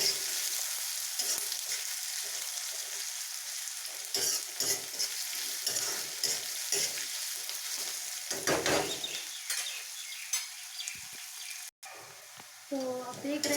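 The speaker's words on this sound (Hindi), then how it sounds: "और अब हमें प्याज को लाइट ब्राउन कलर होने तक इसे हमें भून लेना है अच्छे से।" Chopped onions and green chillies sauté in a pan and are stirred, with a steady sizzle and repeated scraping strokes, while occasional soft speech sits under the cooking.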